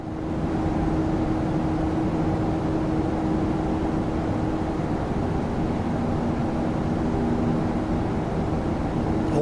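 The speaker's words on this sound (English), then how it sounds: "I can hear the engine." Steady broadband jet engine roar of a PMDG Boeing 737-800 in Microsoft Flight Simulator 2024, continuous and even in level with faint humming tones, no voices.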